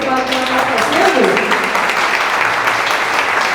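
An audience at a lecture for mayors and tourism secretaries in Pará, Brazil, breaks into loud, close, dense applause that holds steady for a few seconds with no voices over it.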